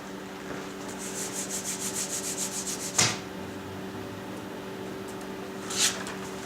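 Soft rhythmic rubbing as glued vellum sheets are smoothed by hand onto wooden window frames, a quiet series of strokes close up, with two brief sharper scrapes.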